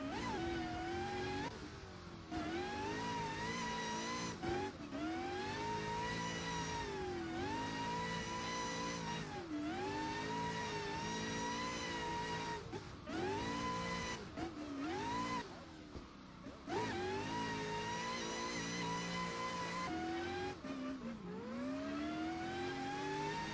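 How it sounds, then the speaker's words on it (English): A custom VDC-legal drift car at Riga revs hard through repeated rising and falling engine sweeps, loud and continuous with brief lifts between pulls. "He's driving a custom VDC legal car on Riga"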